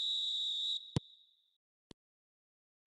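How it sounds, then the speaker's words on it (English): A referee's whistle in the PES 2024 football video game sounds as one steady, high, sharp blast lasting under a second, followed by a few soft isolated clicks in near silence. "Whistle goes, and we start the second half."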